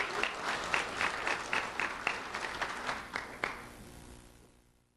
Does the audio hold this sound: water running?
no